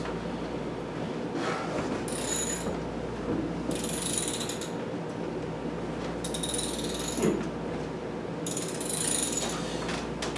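Ratchet wrench fitting a wheel onto a bike, repeated bursts of fast metallic clicking in a steady back-and-forth rhythm, close and clear over a low room hum, with no talking.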